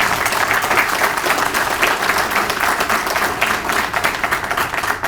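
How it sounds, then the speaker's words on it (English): A crowd applauds at a police swearing-in and promotions ceremony, loud and sustained clapping from many hands across the hall with no voices over it. "Give them another round of applause"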